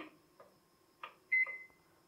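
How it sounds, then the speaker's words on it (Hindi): A microwave oven gives a few short, quiet electronic beeps as its convection mode is pressed to preheat for baking naan khatai, with the last tone held a little longer. No one speaks. "तो इसको ऑन करेंगे और कन्वेक्शन पे हम प्रेस करेंगे"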